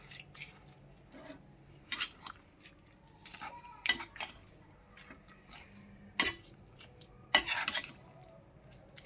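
Coriander pickle being mixed with tempering oil, with irregular close spoon clinks and scrapes against a pot and soft wet squishing between quiet gaps.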